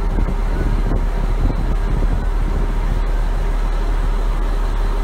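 Strong wind at sea off the coast of Phu Yen batters the microphone in a loud, constant roar with heavy low rumbling and no let-up, and no voices.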